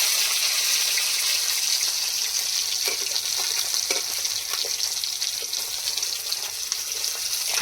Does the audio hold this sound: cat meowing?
no